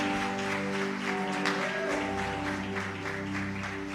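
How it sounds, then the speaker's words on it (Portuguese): A church congregation applauding, a dense, steady patter of many hands clapping throughout, while sustained tonal music or singing plays along underneath. "Gutenberg, vamos dar uma linda salva de palmas para Jesus"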